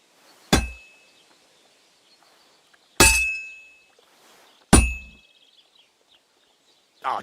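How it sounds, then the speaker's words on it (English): Hammer blows ring out on a workpiece over an anvil at a blacksmith's forge in Kingdom Come Deliverance II: three sharp, bright metallic clangs with long ringing tails, spaced unevenly, then a softer fourth strike near the end. "if it was all about hitting an anvil with a hammer, any dolt could do it"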